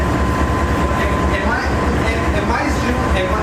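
A freight train passes on the railway in Louveira, São Paulo. It rumbles close by with a steady rhythmic clatter of wheels on track, while people talk over it.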